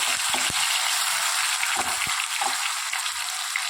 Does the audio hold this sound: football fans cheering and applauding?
no